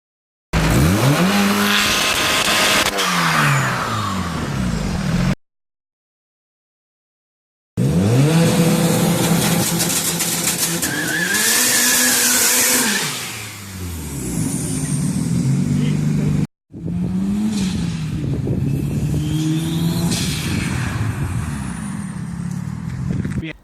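A turbocharged Honda Civic engine revs hard in several bursts, the boost rising and falling between pulls with a loud whooshing recirculated blow-off release, broken by short gaps.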